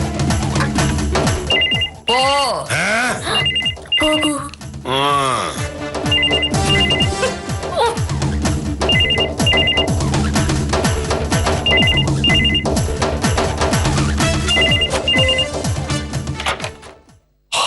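A telephone ringtone repeats in steady bursts in a domestic TV-serial scene, loud and continuous throughout, with a brief spoken word and other sounds mixed underneath.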